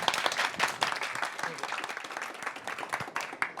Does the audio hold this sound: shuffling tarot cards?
no